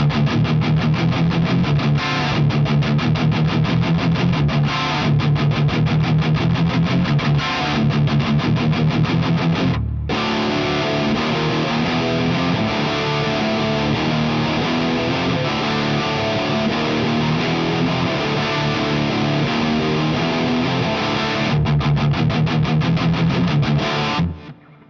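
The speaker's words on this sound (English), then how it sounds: "brings the previous sound to a higher gain stage, without it to be overwhelming though" Crunchy, high-gain distorted electric guitar through a Friedman BE100 Deluxe tube amp playing chugging chords and riffs, loud and continuous with a brief pause around the middle.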